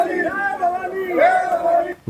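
A large crowd gathered in Aligarh raises loud, overlapping voices in a sustained, wavering din of shouting and calling, close and dense throughout.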